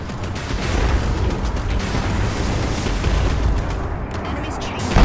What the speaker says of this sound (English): Switch to machine guns to strip down their shields.